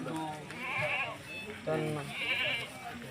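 Goats bleating at a livestock market in short wavering cries, two main calls close by, mixed with background chatter from people.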